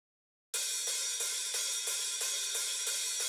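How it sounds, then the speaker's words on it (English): Heavily processed hi-hats from a black metal mix hiss out in a fast, even pulse of harsh, bright metallic hits, about ten in a row, loud and continuous with no voice. "So with the processing, the hi-hats sound like this."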